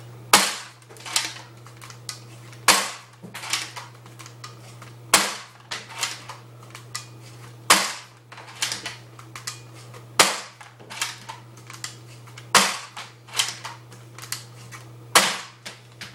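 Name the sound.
3D-printed crossbow turret being cranked and firing shots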